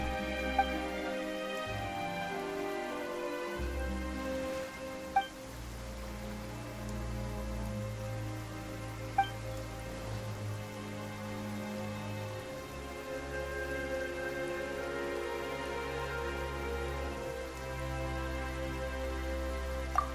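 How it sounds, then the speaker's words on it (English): Steady rain falls in the video game Genshin Impact, a continuous patter over sustained background tones, with a few soft isolated taps standing out along the way. "Why is it raining all of a sudden?"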